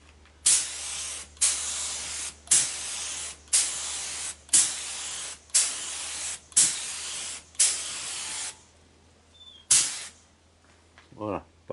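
Eight steady bursts of spray from a paint gun laying a fifth coat of black chrome finish onto limestone, each hiss lasting about a second with brief gaps. Loud and close over a low hum, followed by a few faint clicks and handling sounds.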